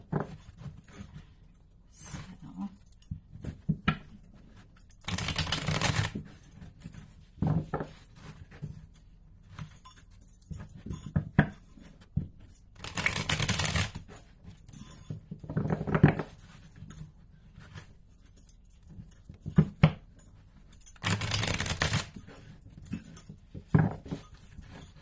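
Tarot cards being shuffled by hand come in soft, close bursts of riffling and patter, separated by quiet pauses.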